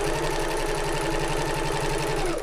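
A sewing machine stitching the curved seam of a fabric bag at regular stitch length, a steady rapid mechanical chatter with a low motor hum, close and continuous with no talking.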